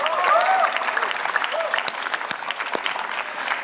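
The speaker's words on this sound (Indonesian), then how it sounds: "Yuk, tepuk tangan lagi dong." Studio audience on the Family 100 game show claps loudly in a dense, sustained burst of applause that gradually thins out over a few seconds.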